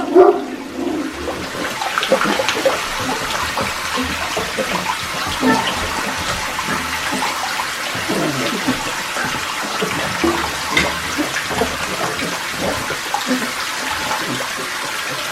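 Water runs steadily into a tub for the first bath of young Great Dane puppies, a continuous close splashing rush that goes on without a break, with faint bumps and small sounds over it.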